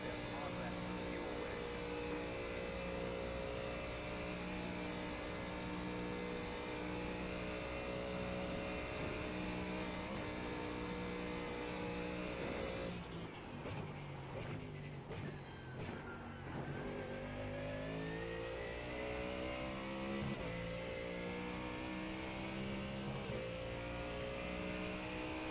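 A race car engine in a Nordschleife 24-hour racing game runs loud and steady, dropping pitch sharply through downshifts under braking before climbing again, with a voice talking over it.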